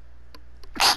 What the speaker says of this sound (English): I sneezed.